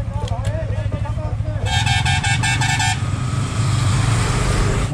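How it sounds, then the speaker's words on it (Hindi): Motorbikes pulling out on a Republic Day group ride of over seventy bikes to Ajodhya Hill in Purulia, with engines rumbling steadily close by and a loud, sustained horn honk in the middle, while voices talk over it. "गाड़ी यहाँ से निकाल रहे हैं अब,"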